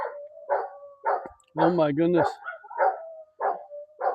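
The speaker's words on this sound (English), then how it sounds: "Every dog in the neighborhood now." Several neighborhood dogs bark in repeated short bursts, near and fairly loud, with one longer whining howl partway through; a person speaks briefly in between.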